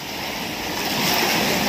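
Sea waves washing onto the beach at Malvan on the Maharashtra coast, a broad steady roar of surf that swells slightly louder, with wind noise on the microphone.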